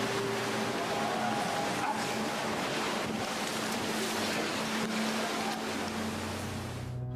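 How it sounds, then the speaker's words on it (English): Tsunami waves surging ashore, a steady loud roar of rushing water and wind buffeting the microphone throughout, with faint tonal engine-like hums underneath. "Look at the waves coming."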